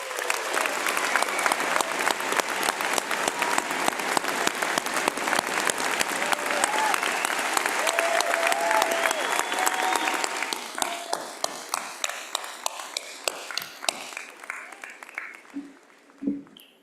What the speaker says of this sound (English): Graduates, please join us in giving them a big round of applause.